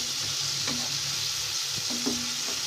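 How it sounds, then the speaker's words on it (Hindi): Tomato masala fries and is stirred in a pan, a close, continuous sizzle with a few soft scraping strokes of the spoon, no talking. "मसाले को मैं भूनने दूंगी जब तक हमारे ये टमाटर सॉफ्ट ना हो जाए।"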